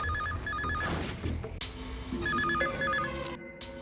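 A telephone rings in a tense kidnapping and revenge scene, its trilling electronic ring repeating in bursts over dramatic background music, loud and close.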